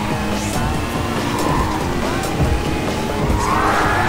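A Hyundai N 2025 Vision GT race car roars steadily through Gran Turismo on PS4, its engine loud and continuous with brief tire squeals and skids as it works through turns.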